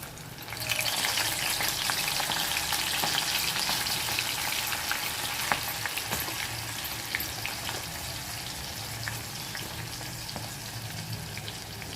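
Corn kernels drop into hot oil and fry with a loud, dense, continuous sizzle that sets in abruptly and holds steady, with scattered crackles and pops.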